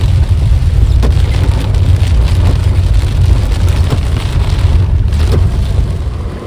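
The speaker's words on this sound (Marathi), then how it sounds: "आणि बाहेर खूपच पाऊस पडतो" Heavy monsoon rain pours outside during a flood in the Konkan. The roar is steady, loud and broadband, with a deep rumble and no voices.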